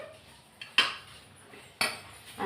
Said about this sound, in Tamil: அதை கொஞ்சம் கிளறி விட்டுட்டா நல்லா உதிரியாகவே இருக்கும்